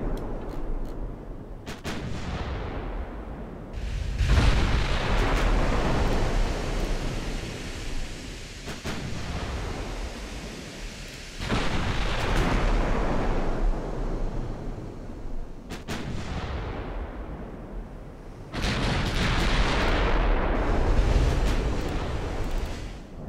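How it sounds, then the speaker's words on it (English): Warship turrets firing broadsides in the naval battle game Ultimate Admiral Dreadnoughts, several heavy booming salvos a few seconds apart, each rolling into a long rumbling decay over sea ambience. "all the turrets firing."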